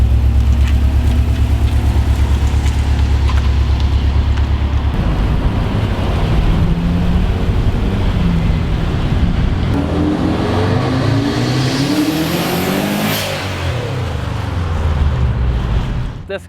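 Subaru Exiga seven-seater with a 400 HP engine package and automatic transmission, its engine droning steadily and loudly up close, then rising and falling in pitch as it revs, with wind rush over the microphone.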